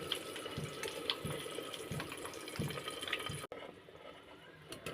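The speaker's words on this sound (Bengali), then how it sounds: "এখন জল দিয়ে দেব।" Water is poured into cooked masala in a pan, a soft continuous trickle and splash, close and fairly quiet, ending abruptly.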